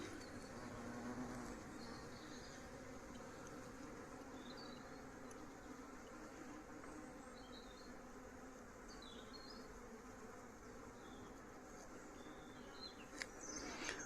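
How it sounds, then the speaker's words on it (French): Honeybees fly around a hive at an apiary in Santeny, giving a continuous soft buzzing hum that stays faint and steady throughout, with occasional louder passes of single bees close by. "devant, comme ça bosse bien, je me fais percuter par les abeilles"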